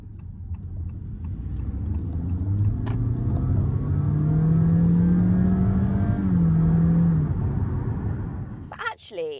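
A 2022 Honda HR-V hybrid engine drones under hard acceleration, a steady strained rising hum that swells over several seconds and then steps down, heard from inside the car with a voice briefly at the end.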